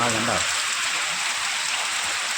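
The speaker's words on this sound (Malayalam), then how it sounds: "മഴ എന്ന് പറഞ്ഞാൽ പെരും മഴയാണ്" Steady, dense hiss of heavy rain pouring down, even and continuous, with a brief voice at the very start.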